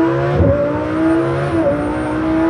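A 1300hp twin-turbo Lamborghini Huracan accelerates hard on a runway, its engine note whining and climbing through gears with a brief shift dip, heard from inside, loud and steady without speech.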